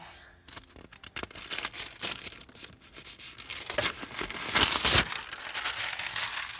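Sheets of parchment paper crinkle and rustle continuously while a journal is made, close and fairly loud, with the crackling growing busier toward the end.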